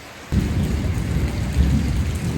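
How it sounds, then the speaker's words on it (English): A heavy thunderclap bursts in during a rainstorm in Lomé, Togo, rumbling loud and close after a quiet start, with steady rain hissing underneath throughout. "That thunderclap, I was lying there on the sofa and the sofa vibrated."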